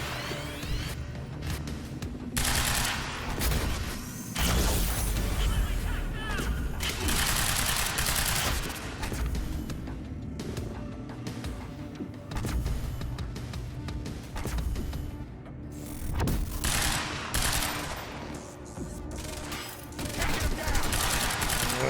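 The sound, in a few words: gunfire in the Quantum Break video game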